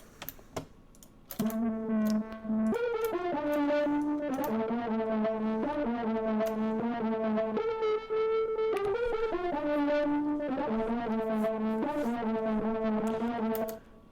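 A synth melody over a beat, its notes chopped by a Gross Beat effect into stuttering, pulsing gated rhythms that cut in and out repeatedly.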